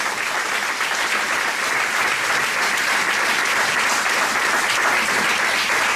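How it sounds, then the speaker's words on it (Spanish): A church congregation claps loudly during a sermon, a thick, continuous wall of applause with no talk over it, even in strength from start to end. "Si lo va a aplaudir, hágalo fuerte para Él."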